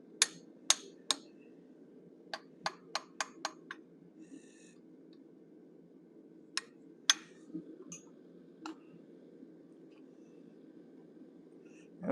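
Light hammer taps drive a straight hot cut into hot metal to form a cougar's nostrils, sharp metallic clicks struck singly and in quick runs of three or four, close and clear over a quiet steady hum.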